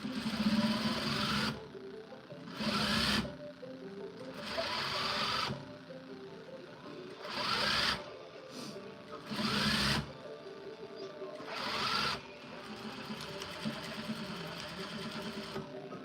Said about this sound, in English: Back stitch, always back stitch.